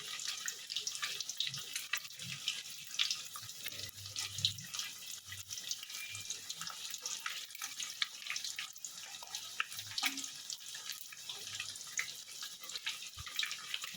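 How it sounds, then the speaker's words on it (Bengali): Rui fish frying in a pan, turned over as it cooks: a soft, continuous hiss and crackle of oil with scattered pops, close and fairly quiet, with no voices. "এইভাবে আমি উল্টে পাল্টে করে ভেজে নেব"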